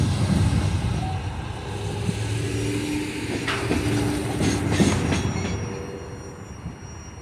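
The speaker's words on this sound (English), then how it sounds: "Check out how small and short this train was." A short CSX freight train rumbles past with a steady low roar, some metallic squeals and clatter rising midway, no voices.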